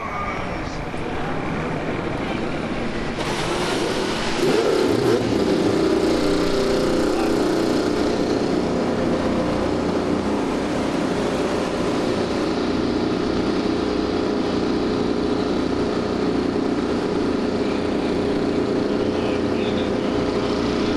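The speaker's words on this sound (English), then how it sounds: "Drivers, start your engines!" IndyCar race engines at the Alabama round fire up and rev. The cars drone and roar together as a loud, steady wall of engine noise. A voice speaks briefly at the start.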